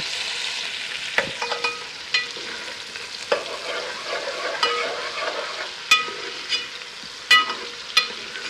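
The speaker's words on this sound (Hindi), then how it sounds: "इसको थोड़ा सा भूनेंगे सॉफ्ट हो जाएंगे प्याज को" Onions fry in oil with ajwain for palak kofte, a close steady sizzle broken by frequent sharp scraping and clacking strokes as the pan is stirred, no talk.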